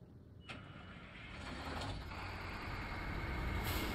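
A Peterbilt semi-truck engine in the SnowRunner video game cranks with a short mechanical catch, then builds into a steady, loud diesel rumble that keeps running to the end.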